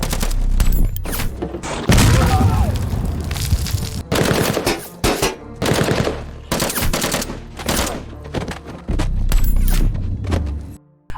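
Heavy film gunfire from a battle scene with an enemy squad: dense machine-gun bursts and fusillades with booming impacts. The bursts come in loud clusters separated by brief gaps.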